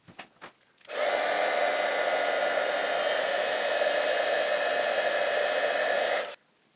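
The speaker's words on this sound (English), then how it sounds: "And now I'm going to heat set that with the heat tool." A heat tool melts white embossing powder with a loud, steady, hair-dryer-like blowing roar that runs unbroken for about five seconds, then cuts off abruptly; close, with no talking.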